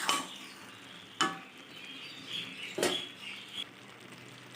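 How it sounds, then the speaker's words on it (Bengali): Boiled rice and banana flower being stirred in a pot, soft quiet scraping and gentle sizzling with two sharper clanks of the spoon against the pot. "এবার একটু ভালোভাবে নেড়ে"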